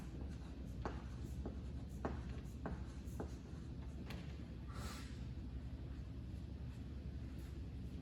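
Pen scratching on paper in a quiet classroom as feelings are written down, a series of short, faint strokes over a low background hum.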